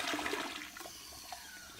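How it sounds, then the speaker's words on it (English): A toilet flush sound effect, a rushing gurgle of water that is loudest at the start and fades over a couple of seconds, alone with no speech. "flushing it down the toilet"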